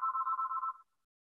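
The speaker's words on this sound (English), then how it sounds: "sorry for the phone ringing." An electronic telephone ring sounds during a scheduling seminar lecture: a steady warbling tone in quick repeated pulses for under a second, then it stops into silence.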